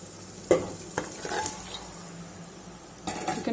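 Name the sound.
chicken frying in oil with ginger garlic paste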